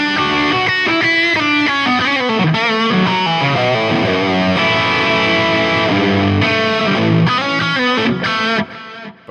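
An electric guitar runs through an Axe-FX III Stereo Tape delay, playing a distorted melodic line with echoing repeats that trail behind each note and stop near the end.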